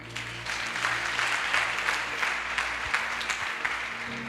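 A church congregation claps in sustained, steady applause for the Lord, dense and even for several seconds with no break.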